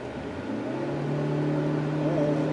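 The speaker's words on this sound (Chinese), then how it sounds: "引擎声还是蛮大的，虽然它已经有把引擎室的隔音提升了" A 2019 Proton Persona's engine drones steadily from inside the car while accelerating, a close, continuous hum whose pitch climbs gradually, alone with no talk.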